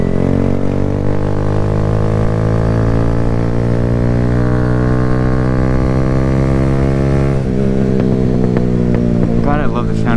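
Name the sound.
Kawasaki Z125 motorcycle exhaust while riding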